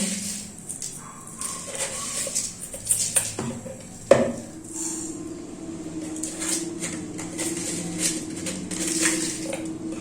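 Metal spoon scraping and tipping sugar into an empty wok set on a gas stove, with a few clinks and a sharp knock near the middle, then a steady low burner hum.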